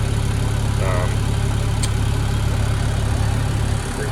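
A BAE Systems M1157 10-ton dump truck engine idles with a steady low diesel rumble and vibration, close and loud throughout, as a brief voice and a short high squeak rise over it.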